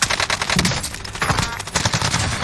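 Rapid automatic gunfire in a Call of Duty Warzone match, loud and close, with rattling bursts and overlapping shots packed into a couple of seconds.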